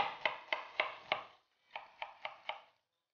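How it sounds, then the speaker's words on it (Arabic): A knife chops onion on a board in two quick runs of four sharp, evenly spaced cuts separated by a short pause, close and clear with no talk. "ونحكم البصل، نقطعه"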